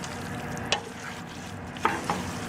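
Scrambled tofu cooks in a pan with a soft continuous sizzle, nearby and steady, punctuated by a few brief scraping clacks as a utensil stirs it.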